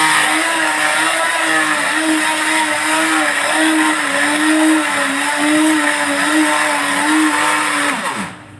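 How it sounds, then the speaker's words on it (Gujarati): Hand blender whirring through boiled dal with peeled tomatoes, a loud steady motor whine with slight wavering pitch, running continuously before winding down and stopping at the end. "એવા ટમેટાની છાલને કાઢી હું એમાં આપણી આ દાળમાં બ્લાઇન્ડર મારી દઉં જેથી એક રસ થઈ જાય।"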